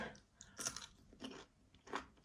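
Crisp, close crunching bites of pickled cucumbers, eaten alongside fried eggs, come in three or four distinct bursts with soft chewing between, with no talking.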